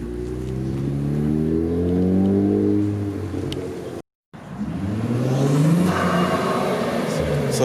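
A modified Infiniti Q50 accelerates hard, its engine note climbing steadily in pitch and loudness, cutting out briefly, then revving up again in a second strong pull.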